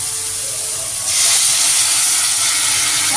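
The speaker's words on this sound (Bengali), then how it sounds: "এবার হলুদ দিয়ে একটু নেড়ে আমি ডালটা দিয়ে দেবো।" Dal with turmeric hits a hot pan with a sudden loud steamy sizzle and hiss that swells up and holds steady, close by.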